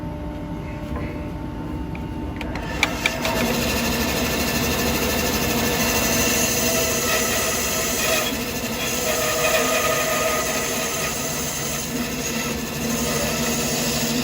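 A carbide chisel cuts wood on a lathe while turning a Christmas nutcracker, producing a steady, continuous whirring grind of the spinning workpiece that goes on throughout without talking.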